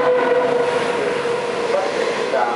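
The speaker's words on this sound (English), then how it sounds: "A non-stop train is passing through the station." A non-stop train rumbles steadily through Kowloon Tong station at close range, a continuous mechanical roar with faint tonal squeal, no voices heard.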